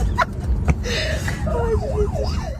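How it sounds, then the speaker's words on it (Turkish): Wailing emergency siren from a luxury car driven illegally on the road, rising and falling in a clear sweeping pattern over steady traffic rumble, fairly loud and close. "Bir de üzerine sirenleri çalıştırdılar."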